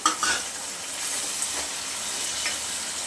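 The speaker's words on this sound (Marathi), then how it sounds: "एक दोन मिनिटासाठी टॉमॅटो सुद्धा तेलामध्ये फ्राय करून द्यायचं आहे" Chopped tomatoes fry in hot oil with a steady, close hissing sizzle, and a couple of sharper stirring sounds come right at the start.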